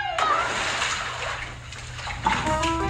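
Water splashes and sloshes in a homemade Splash Mountain ride, bursts of splashing with gurgling between them, close and fairly loud.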